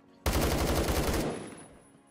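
An SKS rifle fires a rapid burst in a shooting video game, a tight string of loud shots lasting about a second before a short fading tail.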